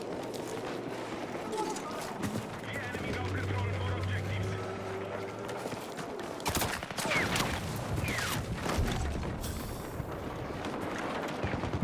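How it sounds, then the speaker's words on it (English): Gunfire in a multiplayer shooter game, rapid crackling volleys and scattered shots popping near and far over a steady background rumble, with a player talking over them. "Who's shooting at me?"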